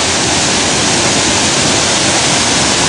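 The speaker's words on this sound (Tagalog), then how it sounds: "Medyo nakababa na po tayo sa falls." Sagada Falls, a small waterfall, pours in a loud, steady, unbroken rush of falling water heard close up, with no other sounds rising above it.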